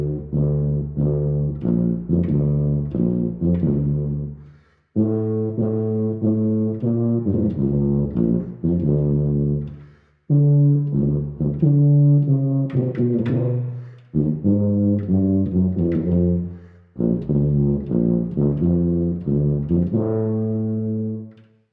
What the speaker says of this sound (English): He plays the tuba. Let's hear what that sounds like.